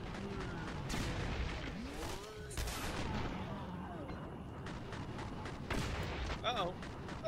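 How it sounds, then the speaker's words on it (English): Rapid bursts of explosions and gunfire-like booms from the retro shooter game Mandorlore, continuous and loud throughout, with a voice talking over parts of the action. "And they explode."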